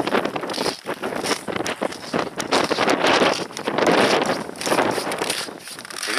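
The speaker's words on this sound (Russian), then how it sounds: "Сейчас немножко выйдем на ветер, будет шумно." Strong gusty wind buffeting the microphone on a mountain summit, Pip Ivan in the Carpathians, in winter cold, rising and falling in loud, rough surges.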